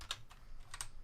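A few quick keystrokes on a computer keyboard, three light clicks spaced within a second, faint and close.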